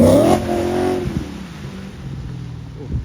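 A BMW E92 coupe revs hard close by at a wet breakfast car meet, a loud brief snarl that fades into rumbling engine and road noise over about three seconds.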